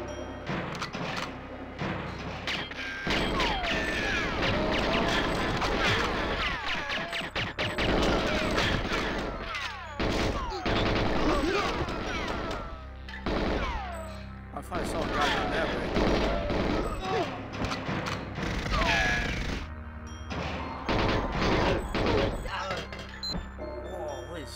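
Near-continuous bursts of video game gunfire and booms in GoldenEye 007 on Xbox Series X, during the Severnaya mission, loud and dense throughout, with players talking over the firefight.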